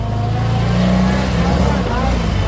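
Austin-Healey Bugeye Sprite engine idling steadily after a warm start, a continuous low rumble running loud and unbroken throughout, with faint background noise.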